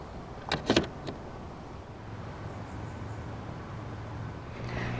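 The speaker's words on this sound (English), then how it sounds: "Electronic fuel flap" On a 2016 Mercedes-Benz C 200 Coupe, the electronic fuel flap pops open with a few quick, close mechanical clicks and a short motor whir early on, followed by a quiet steady background hum.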